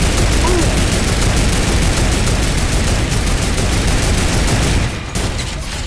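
Rapid, dense gunfire from a turret in a multiplayer squad video game, a loud continuous barrage of shots that fills the clip before easing off slightly near the end.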